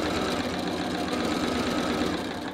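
A sewing machine runs steadily beneath the presser foot as it stitches quilt block seams, a close, continuous rapid mechanical whir with an even pulsing rhythm and no voices.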